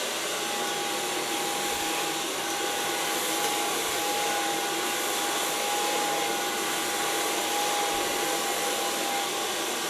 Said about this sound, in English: I'm gonna blow dry the hairs.